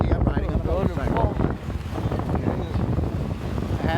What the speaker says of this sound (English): as you see, I'm riding on a motorcycle.